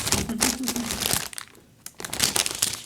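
A sweet treat being cut up, giving crinkly, crumbly crunching and tearing sounds close by in two bursts separated by a brief lull.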